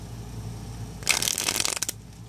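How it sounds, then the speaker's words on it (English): A deck of playing cards is shuffled during a close-up card trick, a quick crisp riffle of rapid flutters lasting about a second, close and fairly loud over a quiet room. "I'll give it a shuffle as well."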